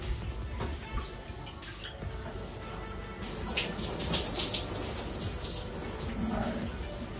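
Water streams steadily from a tap while hair is wet down before shampooing, a continuous close rush with slight splashing and shifts in flow as the head is rinsed.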